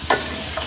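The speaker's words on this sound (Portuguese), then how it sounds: "Fritando torresminho? É, o torresmo." Pork cracklings fry in a pan on a wood-burning stove, giving a steady close sizzle with a couple of brief stirring scrapes and no talking.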